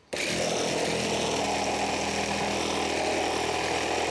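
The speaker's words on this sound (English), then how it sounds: "And drill our pilot right on the line." A power drill bores a pilot hole through the thick wall of a fish tank, starting abruptly and then holding a loud, continuous whining buzz for about four seconds.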